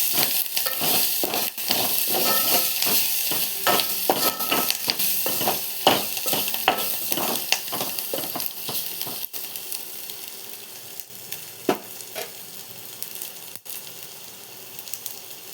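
A spoon stirs turmeric into a curry base frying in a pan for a birakaya (ridge gourd) curry, giving steady loud sizzling with repeated scraping strokes that ease off toward the end.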